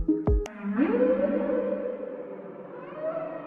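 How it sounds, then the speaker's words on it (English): Real whale vocalization: a brief sharp click or knock, then a long rising moan that settles into a sustained, reverberant tonal call with a slight upward swell near the end, alone and moderately loud. "And this is the sound of a real whale."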